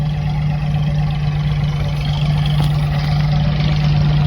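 A groundnut thresher driven by a tractor runs steadily, a loud continuous low engine drone with a strong hum and mechanical clatter throughout, close and unbroken, with no talk.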